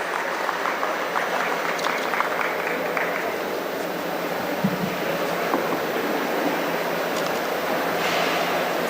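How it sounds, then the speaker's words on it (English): Sustained applause from a graduation day audience, dense steady clapping that fills the whole stretch at an even level with no voices on top. "Let us give them a big round of applause for their efforts and accomplishments"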